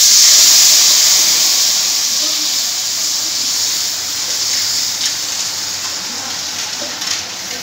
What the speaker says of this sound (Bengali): এরপর আমি দই আর বেসনের মিশ্রণটা ঢেলে দিচ্ছি।